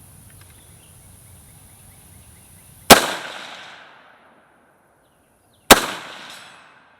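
Two loud, sharp gunshots from a PSAK GF3 12.5-inch pistol fired outdoors toward a 150-yard target, spaced about three seconds apart, each with a long decaying echo; no talking.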